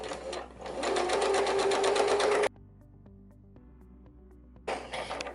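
A sewing machine runs steadily as it stitches an infinity scarf, a loud continuous whirr for about two and a half seconds, then quiet with faint handling, before a short second burst of stitching starts near the end.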